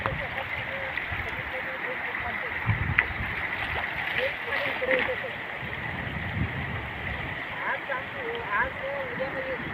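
Floodwater rushing over a road roars steadily across the whole stretch, broad and continuous, with a voice speaking briefly over it.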